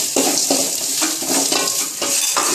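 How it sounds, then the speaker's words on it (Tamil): Grated coconut roasts in a pan under a continuous sizzle, as a spoon scrapes and stirs it in a regular rhythm of about two strokes per second, close and fairly loud. "இதை நல்லா வறுக்கணும்."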